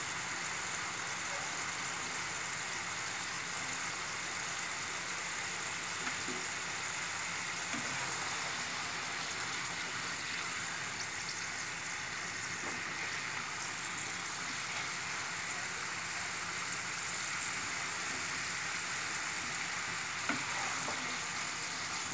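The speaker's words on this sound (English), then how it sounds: "You can hear the sound of oil also." Hot oil sizzles steadily around purple potato fries in a pan, a continuous dense crackle and hiss with faint stirring knocks now and then, with no talking.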